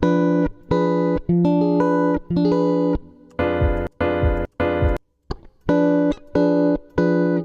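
Electric guitar diminished chords strummed in short bursts with gaps between, some ringing longer, clean and close with no voices.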